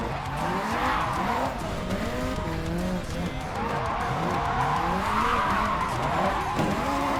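Tires squeal continuously as a car drifts in the JDM driving game, a loud, steady screech with wavering pitch that rises and falls through the corners over an engine drone, with no talking.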